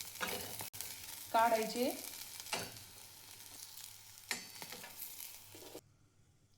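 Cluster beans roasting in a pan over a medium gas flame, a soft steady sizzle with occasional stirring scrapes; a voice speaks briefly, and the sound stops abruptly near the end.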